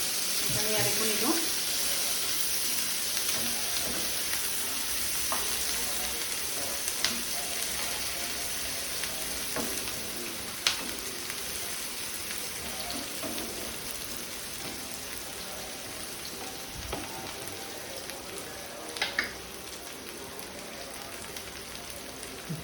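Onion, garlic and ginger frying in oil in a pan for a fish dish with mustard seeds, giving a steady soft sizzle with occasional sharp pops and spatula clicks, while a person talks quietly over it.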